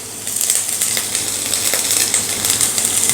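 Garlic and ginger sizzle in hot oil in a pan, a loud, dense, continuous hiss and crackle close up with no voices.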